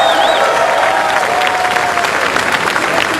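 A large crowd at BlizzCon 2008 cheers and applauds loudly during a StarCraft match, a dense wash of clapping and shouting with a faint whistle near the start.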